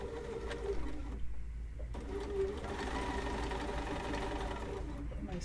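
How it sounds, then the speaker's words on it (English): A sewing machine stitches fabric squares together for an Accuquilt block, a steady close whirring hum with rapid needle chatter running under a person talking, with short pauses in the stitching. "I'm going to sew the first square on, lining up my fabric again to the edge of the foot."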